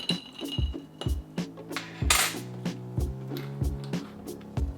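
A metal spoon stirs a White Russian in a glass, clinking steadily against the sides in a quick repeating rhythm, close and bright, with no talking.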